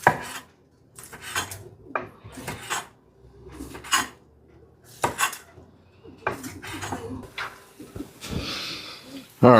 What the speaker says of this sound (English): I'll chop up some garlic